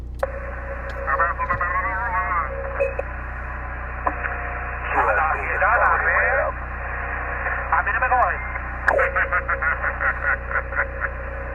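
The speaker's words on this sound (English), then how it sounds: "Dan, we got a lot of signal cross interference here" Amateur radio cross-channel interference on a Yaesu FT891 transceiver used from a high tarmac road, a continuous band-limited hiss carrying warbling garbled voices and chirping, stuttering bursts from another station, loud and steady throughout.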